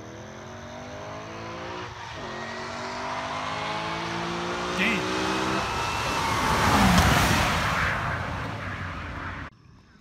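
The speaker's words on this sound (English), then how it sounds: "So since they're doing roll races, they're gonna go a little further back this time since they were too close." Street race cars launch side by side in a Mexican roll race, engines roaring loud and close as they accelerate through rising gear pulls, with a strong swelling engine drone that fades abruptly near the end.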